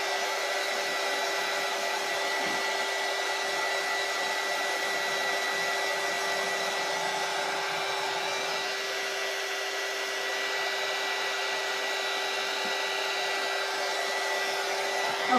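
A hair dryer runs continuously and steadily for the whole stretch, giving a loud, even whir with a constant tone and no talking.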